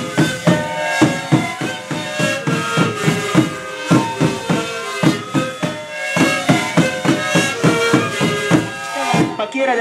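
A diana fanfare plays loud and close at the inauguration of an Avanza País party office in Caravaya, Peru, with brisk, rhythmic brass-like bursts repeating steadily throughout.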